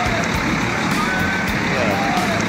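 A police truck idles nearby on a Berlin street, its engine rumbling low and steady with traffic noise and street bustle around it.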